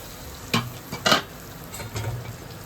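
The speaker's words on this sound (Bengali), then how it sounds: "ভালো করে একটু নাড়িয়ে দিই। এই দেখো বন্ধুরা, সুন্দর একদম কষানো হয়ে গেছে, তেল ছাড়ছে।" Spice paste for a pointed gourd and prawn curry frying on low flame in oil that is separating out, stirred with a metal spatula: two distinct scraping strokes over a continuous close sizzle, then quieter stirring, with no one talking.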